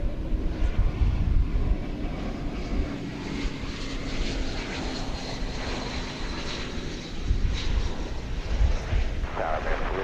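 A United Airbus A319 in from San Francisco passes at DFW Airport, its broad jet engine roar holding steady for several seconds with a faint whine above, moderately near and without talk.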